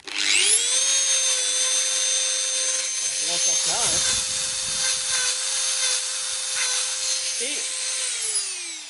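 A power tool with a stainless steel wire brush cleaning car body metal, spinning up into a steady loud whine, holding it for several seconds, then winding down, with brief voice underneath.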